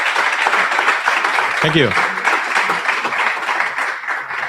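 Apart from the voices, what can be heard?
audience applause at a meetup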